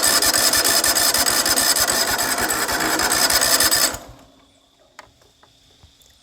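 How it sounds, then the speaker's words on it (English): A John Deere LT180 lawn tractor cranks for a cold start with the choke on and the throttle raised slightly, a loud rapid whirring chug for about four seconds that fails to catch, then stops, leaving faint clicks. "So let's do a cold start."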